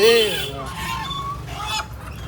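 Chickens honk and squawk nearby at a poultry market in an old bazaar, a loud call opening followed by scattered clucks over a busy background murmur.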